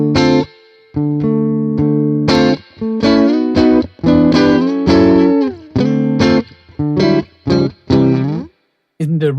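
Electric guitar played through an Amplitube 5 Fender amp model with the fat switch engaged, a series of sharp picked notes and short chords with quick gaps, loud and close with a touch of reverb.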